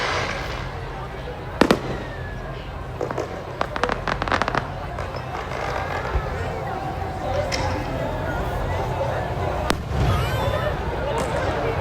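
Firecrackers crack and pop in scattered bursts, some sharp and close, over a busy crowd of voices and background chatter at a Sikh temple in Yuba City, California.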